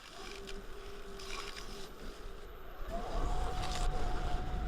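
Splitsuarina wood bowl spinning on a lathe while buffed with Triple E compound, a steady whirring motor drone with a faint rising whine as the speed climbs near the end.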